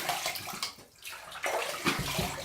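Water runs steadily from a tap to rinse after a shave, close and continuous, with a brief dip partway through.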